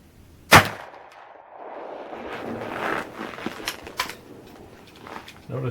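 A single sharp shot from a lever-action rifle firing a 240 grain XTP load with Winchester 296 powder cracks out near the start and is followed by a fading outdoor tail.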